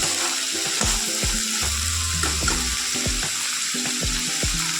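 Peanuts, dry chilli, ginger, garlic and onion frying together in a pan, a continuous sizzle with repeated scraping stirs and light knocks at irregular intervals, no voices.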